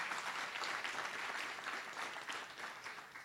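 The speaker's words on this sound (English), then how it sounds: "they deserve applause too" A conference audience claps steadily at a presentation, a dense, sustained wash of hands that holds fairly even before easing slightly toward the end.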